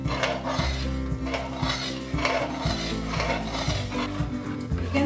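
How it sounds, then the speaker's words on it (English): Thickening gram flour batter for khandvi is stirred vigorously in a pan, making rhythmic, repeated scraping and knocking strokes of the spoon against the pan, close and fairly loud over a low steady hum. "stir vigorously so that there is no formation of the lumps"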